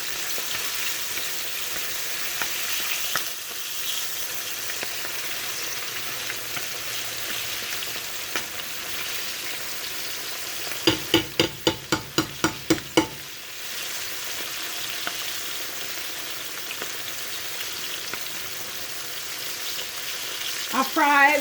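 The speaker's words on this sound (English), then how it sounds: "I fry it for maybe 10 minutes on each side" Food fries in a pan with a continuous soft sizzle, steady and close, broken briefly near the middle by a quick series of sharp clattering taps.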